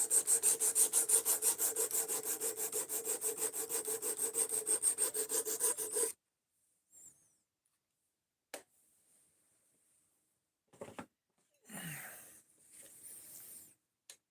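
A knife blade scrapes back and forth across a sharpening stone in fast, even strokes for about six seconds. After that it goes quiet except for a few scattered handling clicks and rubs.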